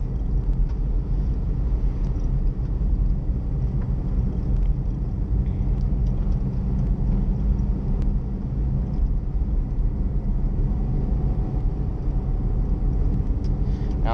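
A Smart Fortwo with a 6-speed Tiptronic gearbox drives along, a steady low engine and road rumble heard from inside the car with light wind noise, loud and unbroken.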